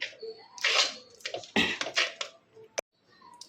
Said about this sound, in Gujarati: આપણે પાણી નાખશું